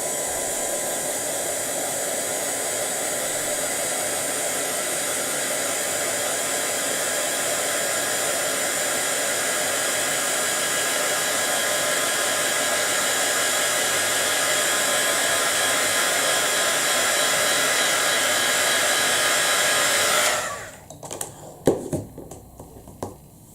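A heat gun blows a steady, loud hiss of hot air for about twenty seconds while drying ink on a handmade Christmas card, then cuts off, leaving a few soft handling taps.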